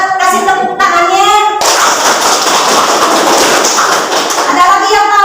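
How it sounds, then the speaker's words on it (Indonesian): Children in an Indonesian Islamic studies classroom break into brisk, loud hand clapping after a teacher's voice, the close clapping filling the rest of the clip in a dense, even burst. "Coba kasih tepuk tangannya"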